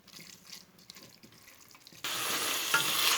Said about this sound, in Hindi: देखें व्यूअर्स, कीमा जो है वो कितने अच्छे तरीके से भुना जा रहा है।